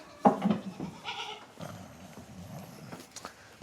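Goats bleat loudly up close among sheep on a farm, a couple of sharp wavering cries early on, followed by scattered softer animal noises and shuffling.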